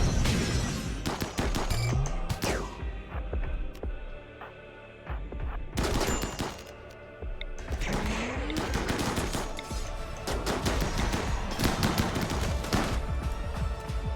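Combat shotguns fire in the video game Inquest of the Dead, with dense rapid gunfire bursts, sharp repeated blasts and brief lulls, loud and continuous throughout.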